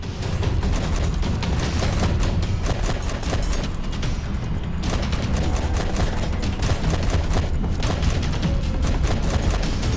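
Rapid, continuous bursts of turret gunfire in the video game ZOMBI, dense and loud, rattling on without a break for about ten seconds.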